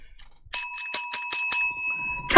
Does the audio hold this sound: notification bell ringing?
yes